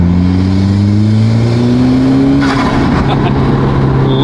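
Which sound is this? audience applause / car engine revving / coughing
car engine revving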